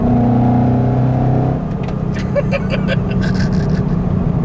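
A supercharged 2015 Ford Mustang GT accelerates hard with a loud, close, droning engine note. Partway through, the tone shifts into a broader roar with faint whining chirps on top.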